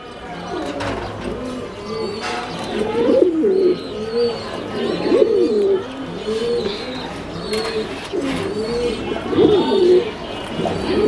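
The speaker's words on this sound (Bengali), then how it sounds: "দেখেন এটাও কিন্তু দামি কবুতর" Fancy pigeons coo steadily and repeatedly, close by, in soft overlapping rolling calls that continue throughout with a few faint chirps mixed in.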